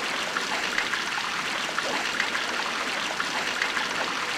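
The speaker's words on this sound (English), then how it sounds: "Why is the water so loud?" Loud, steady rushing of flowing water in The Legend of Zelda: The Wind Waker HD, a continuous close hiss with no break and no voices over it.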